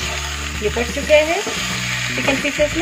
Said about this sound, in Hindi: इसे हाई फ्लेम पे ही भूने, ये चिकन मसालों के साथ इसे हाई फ्लेम।